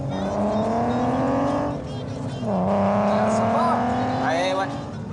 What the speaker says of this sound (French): c'est la sonorité qui fait beaucoup de choses sur ce moteur-là